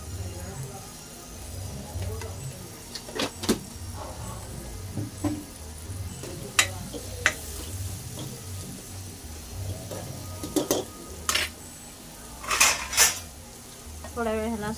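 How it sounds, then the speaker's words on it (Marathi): Green peas (vatana) sautéed in a pan over a low sizzle, with scattered sharp clinks of a spoon stirring against the metal and a person talking at intervals. "वाटाणा परतून झाला आपला चांगला"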